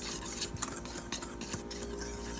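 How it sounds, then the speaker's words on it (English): Dry ingredients for vegan blueberry pancakes being stirred together in a bowl, a steady busy scraping and tapping of utensil against the dish, close and continuous with no talk. "Mix up all your dry ingredients."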